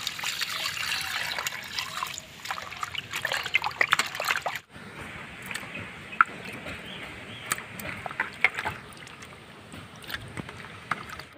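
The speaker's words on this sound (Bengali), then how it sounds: "মাছটা আমি পরিষ্কার করে ধুয়ে নিচ্ছি।" Cut pieces of katla fish are washed clean in water, with steady trickling and sloshing close by and small splashes through the whole stretch.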